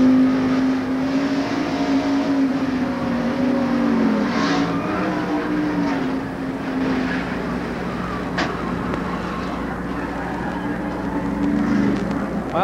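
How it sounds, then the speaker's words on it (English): Stock car engines drone steadily at the 1990 Transouth 500 under caution, with a rising tire screech and a brief sharp bump midway, all fairly loud and continuous. "Did you hear that little bit of a bump? That was a tire blowing out."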